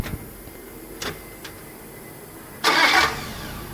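A Fiat Ducato engine, just rebuilt after 500,000 km, cranks with a few brief starter whirs, then catches and fires with a loud roar that settles toward idle, heard close.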